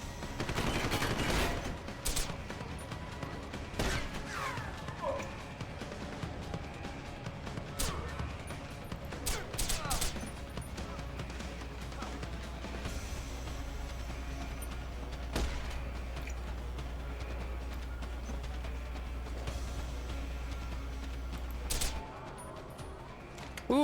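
Gunshots in Deus Ex: Human Revolution, scattered sharp cracks and clattering impacts over a low droning hum, fairly faint in the mix.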